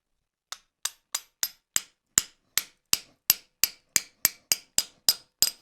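A steady series of about fifteen sharp metallic hammer strikes seating a forged iron trammel hook, evenly spaced and ringing briefly, with no voices.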